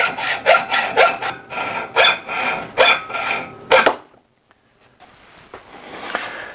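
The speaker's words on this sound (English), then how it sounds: "Now I need to cut the drill arm down to length." A metal drill arm for a bowl depth gauge is hand-sawn to length at 12 inches: about a dozen quick, rasping back-and-forth strokes, close and loud, then the cutting stops and only faint handling noise follows.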